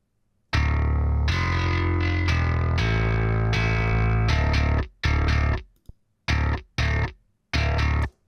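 Bass guitar notes ring out, first in a long sustained passage, then in short, separate plucked phrases with pauses between them.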